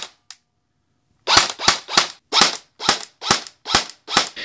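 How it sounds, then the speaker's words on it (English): A Classic Army M4 airsoft electric gun fitted with a hollow suppressor fires about nine sharp, evenly spaced single shots, loud and close, after a brief click and a pause of silence. "It doesn't really do anything to suppress the noise of the gun."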